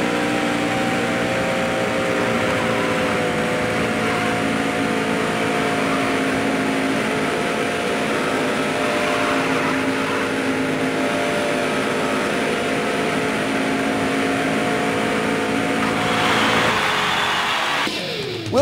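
A NASCAR race car engine in a video game drones steadily at full speed into turn 3 at Daytona, a constant high-revving tone that holds for the whole stretch before a brief shift near the end.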